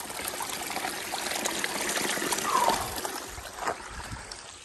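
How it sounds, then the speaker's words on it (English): A small mountain stream trickles and splashes steadily near a hiking trail on the Colorado Trail, a close, even hiss of running water with faint gurgles and no talk. "The water source is right up the trail here."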